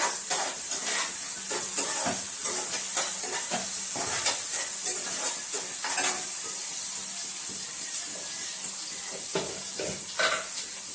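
Tomatoes sizzle and fry in a pan while a utensil stirs them in repeated scraping strokes, a steady close-up hiss running underneath with occasional clinks against the pan and no voices.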